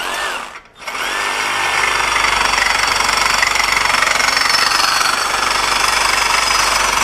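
A FLEX FX2241 24V brushless one-handed cordless reciprocating saw cuts through aluminum with a loud, steady, rattling buzz that runs almost the whole time after a brief dip near the start.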